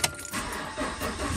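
A car engine starts up in the cold of Edmonton, Alberta, a brief close crank catching into a low idle, with a faint jingle of keys at the very beginning.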